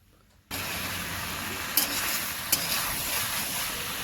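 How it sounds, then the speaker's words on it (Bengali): A ladle stirs potatoes with young jackfruit in a hot pan over steady, loud sizzling frying, with a couple of sharp scrapes of the ladle against the pan along the way. "এরপর মাসি হাতা দিয়ে ভালো করে নেড়ে চেড়ে আলুকে এঁচোড়ের সঙ্গে ভালোভাবে মিশিয়ে দিলেন।"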